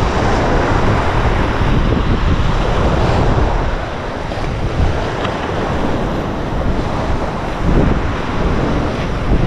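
A flooded river rushes past in a loud, unbroken roar of churning water, close and constant, with gusts of wind buffeting the microphone and no voices over it.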